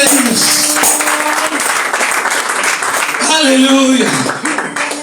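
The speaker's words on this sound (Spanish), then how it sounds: "Oh, dale palmas al Rey de Reyes." Church congregation clapping praise for Jesus during a Spanish-language service, a dense steady wash of hands under a preacher's voice and musical tones, continuous and loud throughout.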